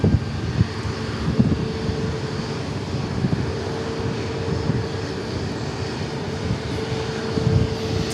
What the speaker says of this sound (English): Next arrival looks like it'll be a Gulfstream G500